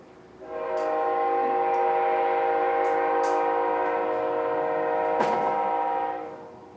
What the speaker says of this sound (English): lovely train